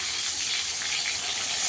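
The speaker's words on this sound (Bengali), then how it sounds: "পটলগুলোকে একটু লাল করে ভেজে নেব।" Pieces of pointed gourd (potol) fry in a generous amount of hot oil while browning, giving a steady, close, continuous hissing sizzle with no voices.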